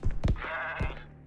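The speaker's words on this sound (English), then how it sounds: "Surprise attack from a goat!" A goat bleats in the video game Zanki Zero, a sustained, wavering cry rising over a few brief low thumps, loud and close with no talk over it.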